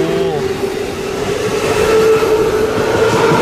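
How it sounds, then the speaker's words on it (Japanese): A JNR series 201 electric train passes close by, separated from the road only by a small guardrail; a steady rail rumble with a sustained motor whine holds loud and continuous throughout. "こんな近くで電車を見ることができますよ"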